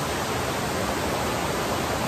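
Cooper Brook Falls on the Appalachian Trail gives a continuous, dense rush of falling water, heard close and loud as an even, unbroken roar with no other sounds.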